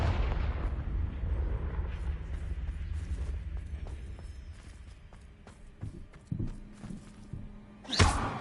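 A Bombarda spell explosion in a Harry Potter video game: a rumbling blast fades at the start, a few muffled thuds follow, then a sharp loud burst near the end.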